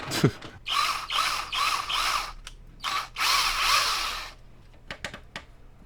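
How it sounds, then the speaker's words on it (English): An antenna is screwed onto a PS5 mounted in a home server rack, with several bursts of ratcheting, grinding turns close up, separated by short pauses and a few light clicks and taps. "Screw the antenna on and check."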